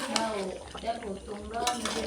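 Rice being moved from a large cooking pot into a smaller pot at a rainy-day picnic, with steady scraping and clinking of a metal utensil against the pot, close and continuous, people talking faintly underneath.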